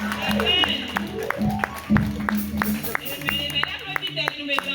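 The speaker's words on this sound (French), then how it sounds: "Applaudis, applaudis, applaudis." A church congregation claps in uneven bursts of scattered hand claps, mixed with singing and voices throughout.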